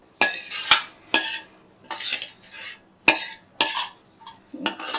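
Metal utensils clank and scrape against pots while rajma is cooked in a home kitchen, a run of sharp, close clinks and knocks in irregular bursts separated by brief quiet gaps, with no talking.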